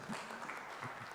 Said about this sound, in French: applaudissons encore une fois pour cette bonne et belle présentation